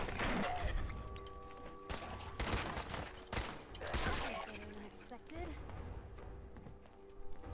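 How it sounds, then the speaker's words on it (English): Fallout 4 gunfire: scattered loud shots and bursts of a firefight in a game world, cracking at irregular intervals amid background noise and a speaking voice. "I'll just shoot that guy for now."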